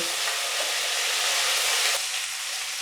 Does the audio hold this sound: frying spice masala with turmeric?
yes